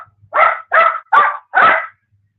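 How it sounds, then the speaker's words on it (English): A dog barks four times in a steady rhythm, loud and close, each bark short and evenly spaced, with no voices over it. "That's my dog, Rock."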